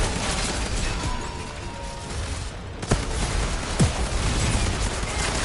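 Fireworks exploding as an attack in the video game Outriders, a couple of sharp pops and bursts over a dense, noisy layer of game combat sounds.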